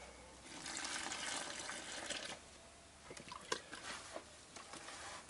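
Water is poured onto dry fishing groundbait mix, a close, steady wash of splashing that then breaks into wet, irregular squelches and drips as the mix is handled.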